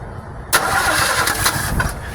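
A 1968 Chevy Camaro, started for the first time in 28 years, cranks and catches at about half a second, then runs with a loud, rough, uneven idle close by.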